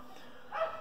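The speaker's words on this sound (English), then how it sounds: "so excuse the dogs barking." A brief burst of dog barking rises near the end, fairly faint and distant over a steady background hum.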